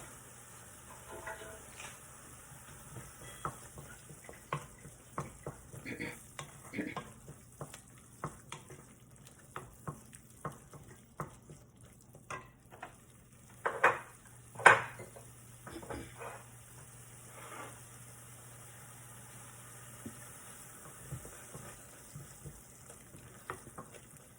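Roasted chana dal powder being stirred into soaked puffed rice in a pan for mandakki oggarane, with soft scraping and clinking of a spoon against the pan in irregular strokes over a faint steady hum.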